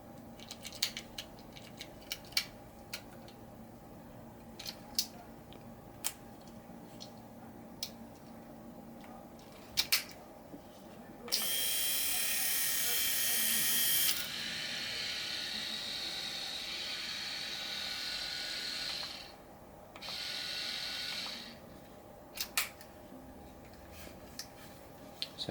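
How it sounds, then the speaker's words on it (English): A Philips S3122/51 electric shaver buzzes in a steady, loud whir for a few seconds, then an older Philips shaver runs with a slightly different hum, set against quiet background ticks and clicks with no talking. "So that's the shaver compared to my previous one."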